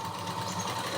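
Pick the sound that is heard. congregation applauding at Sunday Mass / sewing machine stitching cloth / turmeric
sewing machine stitching cloth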